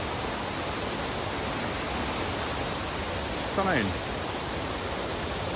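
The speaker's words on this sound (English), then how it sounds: "Awesome waterfall, folks." Waterfall at Edzell in autumn: a constant, dense rush of falling water fills the scene evenly, with a man's brief spoken remark partway through.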